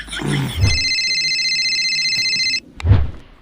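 A telephone rings with a steady electronic tone that lasts a couple of seconds and then cuts off, between short bursts of speech before and after.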